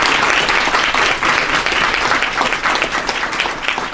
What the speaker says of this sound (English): let's give a big round of applause to Grant and Cleo.